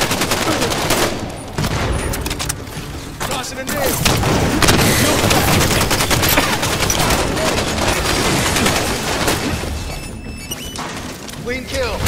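Rapid automatic gunfire and explosions from a Halo 5: Guardians Slayer match on the Truth map, loud and nearly continuous, with bursts of shots and booms over twelve seconds.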